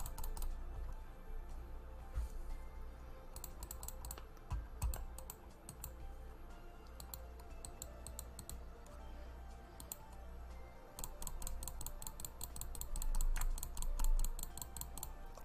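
Soft computer-mouse clicks come in bursts and quick runs over a steady low background hum in a quiet late-night room.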